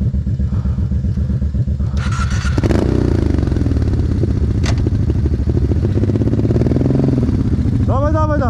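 Kawasaki KFX700 ATV engine cranks, catches and runs with a loud, close, rough idle and throttle blips, while people talk over it nearby.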